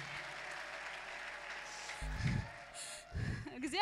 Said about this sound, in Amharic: ለጌታ እስቲ ከዚህ በላይ አጨብጭቡ